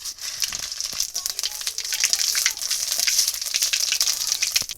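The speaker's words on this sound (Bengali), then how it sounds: "এবার আমি কয়টা গোটা জিরে আর কয়টা তেজপাতা ফোড়ন দিয়ে দেবো।" Whole cumin seeds and bay leaves crackle and sizzle steadily in hot oil, a tempering for dal, with a bright, continuous hiss punctuated by sharp pops that grows slightly louder midway; no talking.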